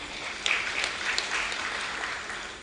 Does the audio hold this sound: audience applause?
yes